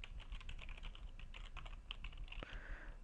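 Rapid, uneven keystrokes on a computer keyboard while entering a web address into a browser, quiet and close, with a sharper clack near the end and no talk.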